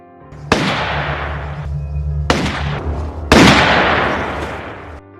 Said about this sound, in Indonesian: Lalu terdengar suara tembakan sebanyak 3 kali.